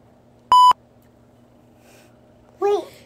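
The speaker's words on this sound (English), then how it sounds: "please touch the phone and make it beep again" A phone gives one short, clear electronic beep close by in a quiet room, followed a couple of seconds later by a brief voiced sound.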